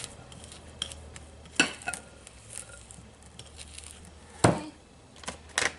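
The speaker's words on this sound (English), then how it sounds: "And I'm just going to keep scraping here." A spatula scrapes cookie dough for chocolate chip cookies around a bowl with soft steady rubbing. A few sharper clicks and scrapes punctuate it, close and fairly quiet, with no talking.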